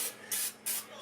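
Cooking spray is sprayed onto chicken pieces, with three short bursts of hissing in quick succession, close and fairly loud.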